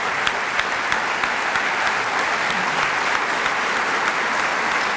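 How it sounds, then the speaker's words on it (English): An awards-night audience applauds scholarship donors and presenters, a dense, sustained round of clapping from a crowd filling the room at even loudness from start to finish. "Let's give them a round of applause."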